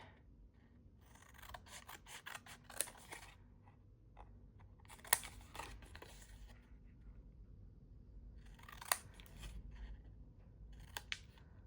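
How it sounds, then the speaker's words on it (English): Scissors cut paper from a paper bag for a junk journal, with short bursts of snipping and rustling scattered across quiet stretches, close but faint, with a few sharper clicks. "let's cut this out and see what this one looks like"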